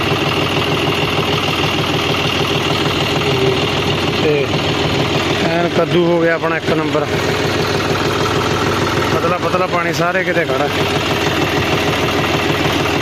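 A steady, throbbing tractor engine idles close by throughout, with someone talking over it in the middle.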